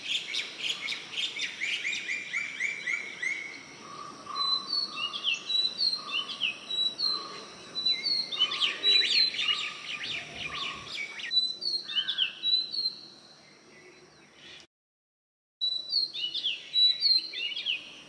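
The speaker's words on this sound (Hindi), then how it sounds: "और सुबह सुबह चिड़िया की चहचाहट सुन के ना मेरा दिन बन जाता है" Birds chirp and tweet in the morning in a steady stream of quick, bright calls that overlap through the whole stretch. The sound is moderately loud with no talking and drops out briefly near the end.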